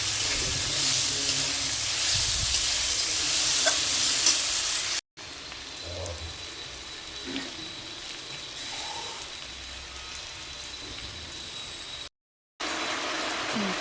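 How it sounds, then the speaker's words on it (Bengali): Ginger and garlic frying in a pan for chilli paneer, a steady broadband sizzle with occasional stirring scrapes, close and continuous, broken by two brief silent gaps. "সবগুলোকে একটু ভালো করে ভেজে নিব, আদা রসুনের কাঁচা গন্ধটা যাওয়া অবধি।"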